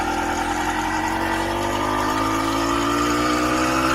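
A motorized bicycle's small engine labouring steadily uphill, a loud continuous droning buzz with a rough low rumble and little change in pitch, close and unbroken, with no talking.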